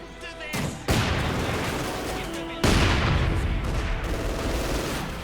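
Mortar and artillery fire in a Company of Heroes 2 match: two heavy booming blasts roughly two seconds apart, each followed by a sustained rumble and scattered gunfire, with faint game noise beneath.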